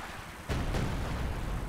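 A heavy explosion bursts in the wartime strategy game Company of Heroes 2, a sudden loud boom that rolls into a sustained rumble of battle, with a second blast following close behind.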